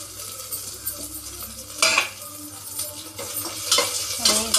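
Onions with curry leaves and coriander stems are sautéed in oil for a beetroot kootu. A spoon stirs briskly and scrapes the pan over a continuous sizzle, with louder bursts as the pieces are turned, heard close and alone.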